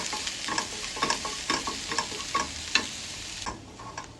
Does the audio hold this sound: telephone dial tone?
no